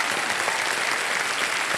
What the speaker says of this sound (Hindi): एक बार फिर जोरदार तालियां बजाएं।